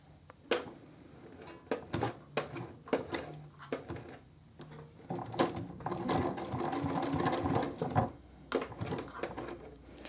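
Sewing machine stitching an eco-leather cosmetic bag, running in short bursts of rapid mechanical chatter separated by brief pauses, then a longer sustained run, close and fairly quiet with no talking.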